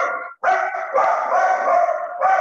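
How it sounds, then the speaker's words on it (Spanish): A pet dog runs and barks after hearing a noise, giving loud, close, sustained barking with a howling edge and one short pause, and no talking over it. "ese es Beto, es mi perro que escuchó un ruido corriendo y ladrando."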